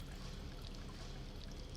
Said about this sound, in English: I'm gonna add 1 2/3 cup of lukewarm water, but I'm gonna add it a little at a time.